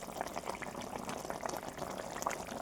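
Fish curry with coriander leaves bubbling in a pot, a soft, continuous simmer of small pops and gurgles heard close up with no voices.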